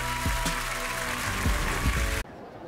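Audience applause for a young singer on a children's televised singing contest rings out as a steady wash of clapping with music underneath, then cuts off abruptly near the end.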